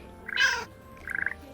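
A pet cat in the game Hogwarts Mystery meows twice, first with a fuller, longer call and then with a shorter, lighter one, clear and close against a quiet background.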